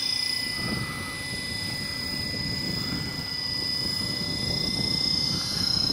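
A radio-controlled Great Planes Piper PA-28 Cherokee model airplane flies overhead, its engine and propeller making a steady, loud buzzing drone that holds throughout without talk.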